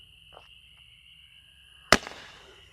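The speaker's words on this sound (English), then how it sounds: "Sun's Fireworks Chameleon candle." A Sun's Fireworks Chameleon color-changing Roman candle fires one sharp, loud shot after a steady background hum, with a faint crackle trailing off.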